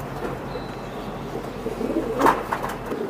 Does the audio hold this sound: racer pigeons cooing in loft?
yes